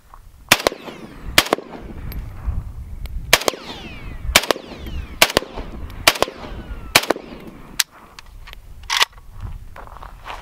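Loud AK-47 rifle firing 7.62x39 rounds at a steel sewer lid outdoors, about nine sharp separate shots at uneven intervals over ten seconds, each crack followed by a ringing ricochet tail.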